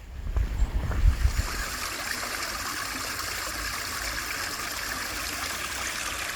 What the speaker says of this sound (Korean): 겨울이라 물이 많지는 않지만 물소리는 청명하게 들립니다.